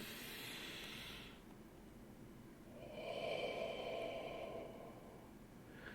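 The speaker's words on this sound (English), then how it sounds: "breathing in and breathing out" Slow, calm breathing during a guided relaxation: a long breathy exhale, a pause, then a deeper inhale, close and soft with nothing else heard.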